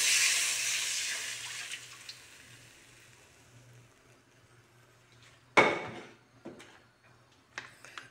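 Water pouring into a pot for pancit bihon: a broad rushing pour opens loud and tapers off over several seconds, then a sharp clatter and a few smaller knocks follow in a quiet kitchen.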